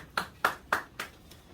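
After a candidate's election speech in a Korean church council hall, a few faint, evenly spaced hand claps sound, about four distinct slaps in quick succession, with no voices over them.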